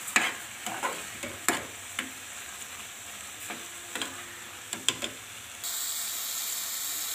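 Carrot halwa (gajrela) with sugar stirred in a pan gives a soft sizzle and scattered scraping knocks of a spoon, close and fairly quiet, ending in a steady hiss.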